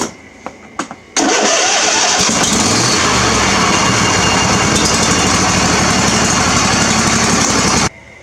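A John Deere lawn tractor engine fitted with a new solenoid cranks after a few short clicks and catches, then runs steadily and loudly for several seconds before cutting off abruptly.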